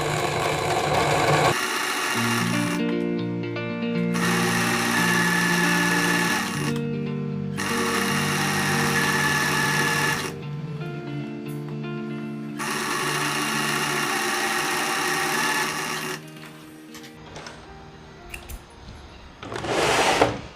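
A home sewing machine runs in long bursts while stitching the folds of a Japanese-sleeve dress, with a loud, steady motor hum that stops and restarts several times under a slow, controlled pedal. No one talks.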